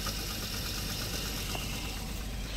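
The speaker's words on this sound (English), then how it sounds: "Definitely sounds like metal on metal hitting." A 2004 Jeep Liberty Renegade engine runs steadily at idle with a rough, knocking metallic undertone, a continuous close mechanical clatter and no talk.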